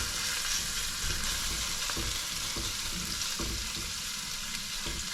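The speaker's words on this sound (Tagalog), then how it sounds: "Gisa tayo," Garlic sautéing in a hot pan gives a steady, close broadband sizzle with soft stirring scrapes throughout, heard alone without talk.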